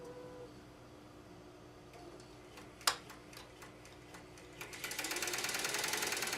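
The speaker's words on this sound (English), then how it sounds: "The pantograph is moving. And you'll also notice that the rotary hook is spinning." An embroidery machine runs during oiling, its pantograph moving and rotary hook spinning, giving faint ticking and ratcheting mechanical clicks with one sharp knock, then building into a denser whirring clatter toward the end.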